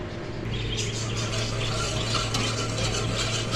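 A whisk works through cornflour-thickened chutney for pani puri cooking on the stove, making a continuous close scraping, swishing texture with faint squeaky overtones that holds steady for several seconds with no talk.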